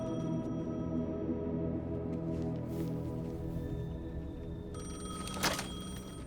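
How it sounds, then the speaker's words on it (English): A payphone rings in the video game Alan Wake 2, with repeated electronic ring tones over a steady low ambient drone and a brief burst of noise near the end, no talk. "The payphone was ringing."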